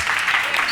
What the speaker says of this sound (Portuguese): Palmas para o Vitor.